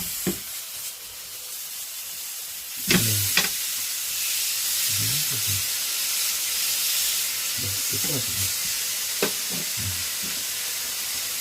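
Soft steady sizzling hiss of meat cooking in a pan, with a few brief clinks and scrapes of utensils stirring.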